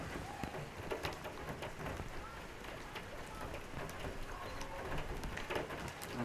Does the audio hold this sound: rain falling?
yes